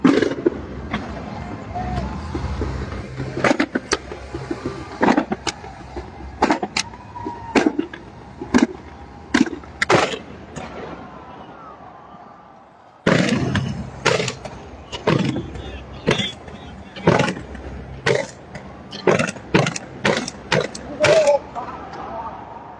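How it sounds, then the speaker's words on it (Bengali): Fireworks go off over a stadium after a cricket Asia Cup final, with a steady series of sharp booms and crackles at irregular beats. A brief gap falls in the middle, and crowd noise and voices carry underneath. "তার আগে পর্যন্ত ফায়ারওয়ার্কসটা এনজয় করুন।"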